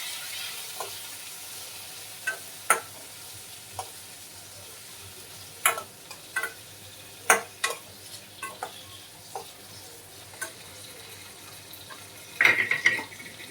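Ridge gourd peel chutney mixture stirred in a pan, a string of sharp scraping knocks of a spoon against the metal spread unevenly over a quiet background, with a louder cluster near the end.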